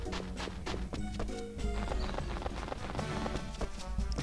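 Horse hooves clip-clop at a steady run alongside neighing and whinnying in the video game Rune Factory 4, mixed over busy game music and effects.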